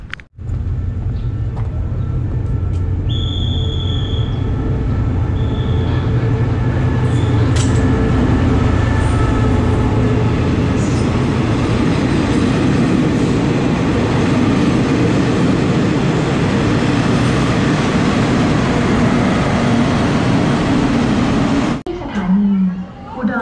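Train noise at a railway station on a Thailand-to-Laos rail journey, a loud steady rumble of rolling stock with brief high tones, continuing for about twenty seconds before cutting off.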